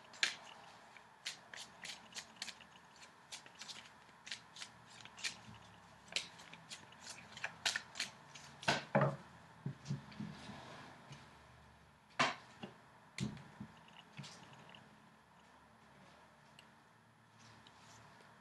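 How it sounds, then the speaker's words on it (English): Tarot cards handled and drawn from a deck during a reading: soft, close shuffling and sharp flicking taps in irregular bursts, quiet with no speech over them. "So I'm going to pull the outcome card here."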